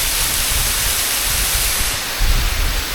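Steady rushing water roars continuously, a broad hiss of a nearby off-trail waterfall and stream feeding Nant Melon at Hendre'r Mynydd, with no voices.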